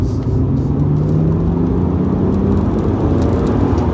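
A BMW Z4 3.0-litre M54 straight-six engine revs and drones steadily at close range, a continuous throaty rumble that swells slightly as it builds speed.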